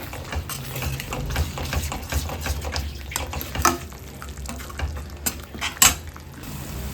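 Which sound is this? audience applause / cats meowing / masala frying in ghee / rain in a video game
masala frying in ghee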